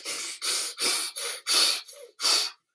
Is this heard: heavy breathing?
yes